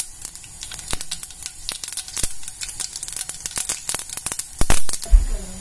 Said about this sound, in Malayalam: കടുക് ഒന്ന് പൊട്ടട്ടെ.